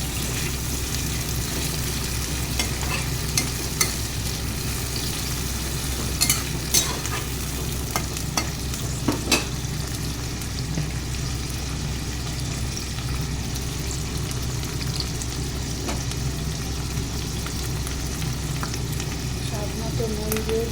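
Onions and raw fish frying in a pan for a dry fish dish, a dense, loud, unbroken sizzle running throughout with occasional faint clicks and scrapes, close up and without speech.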